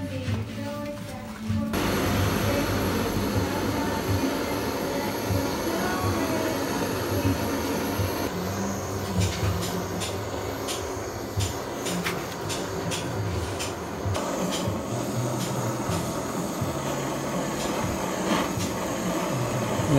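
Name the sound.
torch burning edges of Honda Click 125i panel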